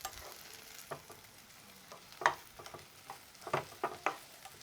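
Potatoes sautéing in hot oil with onions for a Jaffna-style potato milk sodhi; a quiet, steady sizzle is broken by intermittent stirring clinks and scrapes, with no talking.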